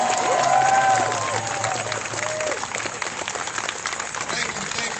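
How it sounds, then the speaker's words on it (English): Protest crowd outdoors at night applauds and cheers, a broad wash of clapping with voices and shouts rising early and settling into steady clapping. "Can we get a round of applause for his mother?"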